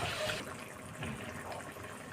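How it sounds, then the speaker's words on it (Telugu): Water splashes into a pan of simmering fish gravy for fish biryani, a loud pour that trails off into a softer, steady trickling within about two seconds. "కొద్దిగా వాటర్ వేసాను."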